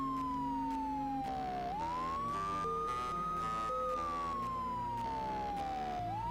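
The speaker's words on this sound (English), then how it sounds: "You can hear the siren being reused in the music again." Wailing siren sound effect resampled into the music of the PlayStation game Mizzurna Falls, sweeping slowly up and down over a sustained synth backing, steady and moderately loud with no speech.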